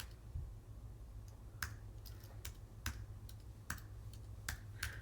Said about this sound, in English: It's weird typing enter after every letter.